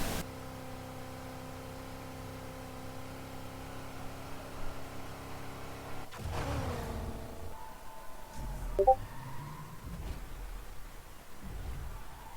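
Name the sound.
Ford Mustang engine in video game NFS Heat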